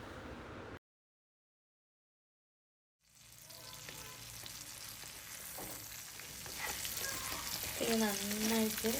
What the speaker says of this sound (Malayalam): ഈ ഒരു ഉള്ളി നന്നായിട്ട് മൂത്ത് വരുന്നത് വരെ നമുക്കിങ്ങനെ വഴറ്റി കൊടുക്കാം